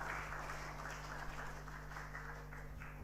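Audience applause for Bu Yuni at an Indonesian church worship gathering, a steady wash of clapping held at an even, moderate level over a low hum throughout.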